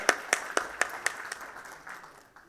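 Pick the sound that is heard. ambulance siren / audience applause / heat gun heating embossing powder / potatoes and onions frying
audience applause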